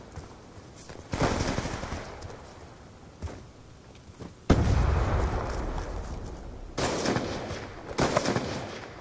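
Bursts of gunfire in a Call of Duty Black Ops 2 multiplayer match on Xbox 360, arriving as several loud, close volleys separated by short quieter gaps, with a sharp onset midway and rapid shots near the end.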